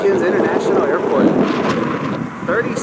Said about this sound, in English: We got about a 30-mile-an-hour wind today.